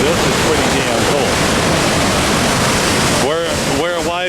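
High Falls of the Pigeon River at Grand Portage plunge into a gorge with a loud, constant roar of rushing water, heavy wind buffeting the microphone, and a voice speaking near the end.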